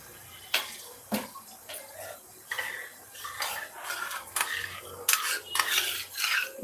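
A spoon stirs powder into coconut water in a bowl, turning it jelly-like, with sharp metallic clinks and scrapes at irregular intervals over soft liquid swirling, close and fairly loud.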